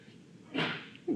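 A single quick sneeze bursts out of a quiet room, followed moments later by a short voiced sound.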